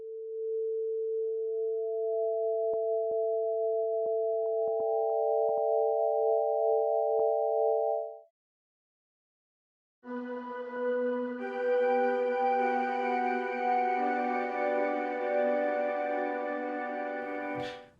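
Smooth, sustained synthesizer tones hold steady, fall silent briefly, then return as a fuller, richer layered pad chord.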